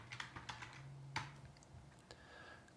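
Notes typed on a computer keyboard at a point-of-sale terminal: a quick run of close, light key clicks with a soft hum underneath.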